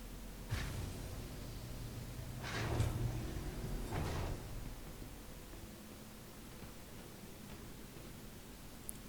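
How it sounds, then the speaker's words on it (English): A spaceship door in the video game Star Citizen opens with a soft mechanical clunk and an airy hiss that swells and fades over a few seconds above a low, steady ship hum. "Back out here, we open the door."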